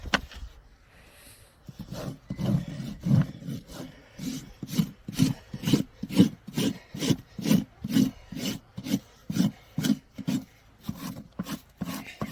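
A rasp filing a draft horse's hoof to a bevel makes steady rhythmic scraping strokes, about two per second, close and alone with no talk.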